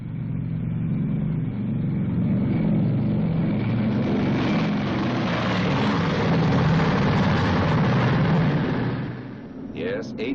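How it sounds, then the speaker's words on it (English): Four Wright 3350 radial engines of a Boeing B-29 Superfortress run together in a loud, deep, continuous propeller roar that swells through the middle and then tapers off, with no talking. "And those are its 4 Wright 3350 engines."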